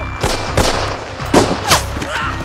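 Bursts of suppressing rifle gunfire in a World War II battle at Foy in Hell Let Loose, several sharp loud shots spaced irregularly with faint shouting mixed in.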